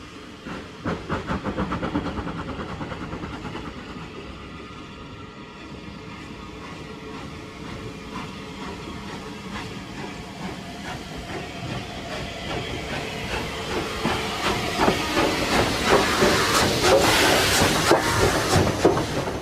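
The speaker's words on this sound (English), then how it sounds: "This is 257 Squadron, at work on the Swanage Railway." Steam locomotive 257 Squadron working on the Swanage Railway, with rhythmic exhaust beats and hissing steam that build steadily louder and busier over the run, wheels clicking beneath.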